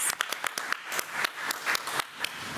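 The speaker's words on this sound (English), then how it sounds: "let's give Nurse Daniels another round of applause" Brief round of clapping from a small crowd at a committee meeting, steady and moderately loud, with scattered individual claps standing out and no talking.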